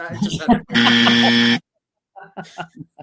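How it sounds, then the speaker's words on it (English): A loud, harsh buzzer blares for about a second on a live NFL talk show, between bursts of talk and laughter nearby. "I made that buzzer a little bit extra loud for Matthew tonight."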